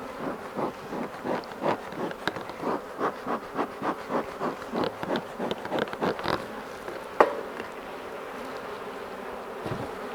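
Honey bees humming around an open hive during a spring inspection, a close steady drone with rhythmic pulsing swells and one sharp knock near the end, no talk.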